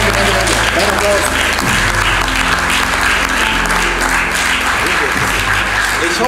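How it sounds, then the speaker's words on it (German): Steady, dense applause from a crowd, loud and continuous throughout, with a busy wash of clapping and some voices mixed in. "kriegst du noch einmal einen ganz, ganz dicken Applaus"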